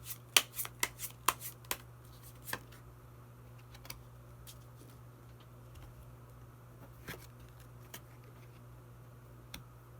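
Tarot cards being shuffled by hand, a quick cluster of crisp riffling snaps early on, then sparser single flicks and taps over a steady low hum, close and fairly quiet.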